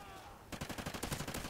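Rapid automatic gunfire in the video game Call of Duty Ghosts, a quick burst of about a dozen sharp shots in the last second, fairly faint and heard alone after a brief quiet lead-in.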